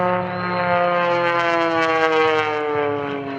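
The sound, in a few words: aerobatic airplane engine during airshow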